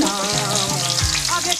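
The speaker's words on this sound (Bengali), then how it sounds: "এই আলুটাকে আমি লাল লাল করে ভেজে নেব।" Potatoes frying in hot oil, a dense bright sizzle with bubbling crackle, close and continuous for a short stretch.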